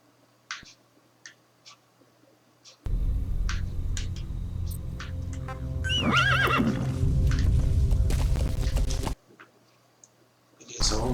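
A horse whinnies in Metal Gear Solid V: The Phantom Pain, with a rising, wavering neigh over steady game noise and scattered clicks.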